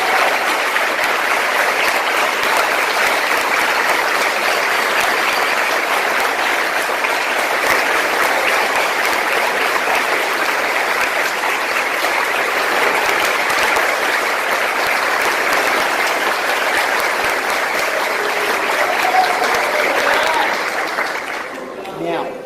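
A church congregation applauds in praise of Jesus, a loud, dense and steady wash of clapping that holds for over twenty seconds before starting to thin at the very end.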